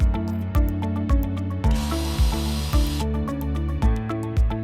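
A power drill with a Phillips driver bit tightens screws into a base cabinet during assembly, with repeated regular pulsing thumps and a brief hissing burst midway, close and with no talk.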